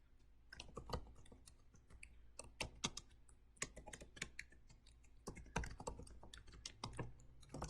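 Steady typing on a computer keyboard, a close, quiet run of crisp key clicks in uneven bursts with short pauses, heard alone without any talking.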